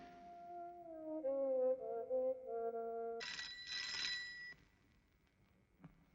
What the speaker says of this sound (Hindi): अरे देख, जा घंटी बज रही है।